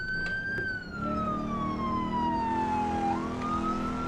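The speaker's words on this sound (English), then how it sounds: "Especially that I have a siren." Police car siren in a driving simulator game, a loud wailing tone that sweeps slowly downward and then rises again, sustained over a low engine rumble, with no talking.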